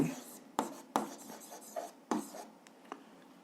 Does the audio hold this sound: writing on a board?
yes